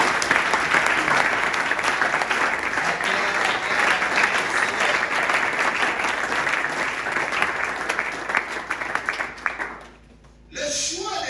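A church congregation applauding during a service, dense sustained clapping close and loud for about nine seconds before it drops away, with a voice speaking briefly at the end.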